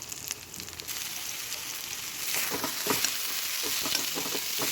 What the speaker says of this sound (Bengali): এদিকে নাড়াচাড়া করে অল্প একটু জল দিয়ে মশলাটিকে খুব ভালোভাবে কষিয়ে নেব।